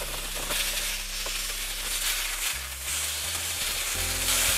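A New York strip steak sizzles in a pan whose seasoning is still being built up, a steady close hiss of frying meat with a low electrical hum underneath.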